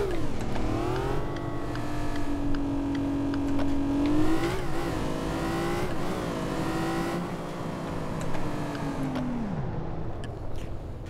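A Lamborghini Reventon engine in the driving game City Car Driving revs steadily for several seconds, pitch holding high, then surging through gear changes before dropping away near the end, loud and close with no talk.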